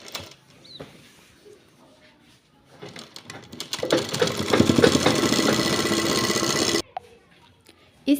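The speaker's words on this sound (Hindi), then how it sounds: "अब हम यहाँ सिलाई लगा लेंगे।" A sewing machine stitches a folded elastic casing on trouser fabric, a fast, fairly close rattling run of about three seconds, with quieter handling rustles before and after.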